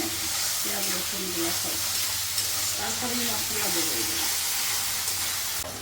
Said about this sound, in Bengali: সব মশলা ওই পেঁয়াজটা রসুনটা একটু আগে ভাজিয়ে নিচ্ছি